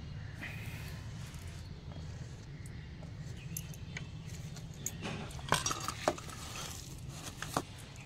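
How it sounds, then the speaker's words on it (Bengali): Egg and mashed Maggi noodle batter being mixed with onion and chilli in a bowl, a steady soft stirring and scraping with a few sharper clinks of utensil against the bowl near the end; no talking. "এবার পেঁয়াজ লঙ্কা মিশিয়ে নিচ্ছি।"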